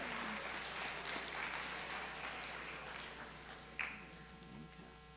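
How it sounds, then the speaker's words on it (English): Faint, thin applause from an audience at the 2017 North Carolina National History Day awards ceremony, scattered clapping heard from a distance with a brief louder knock near the end. "we'll give you a round of applause"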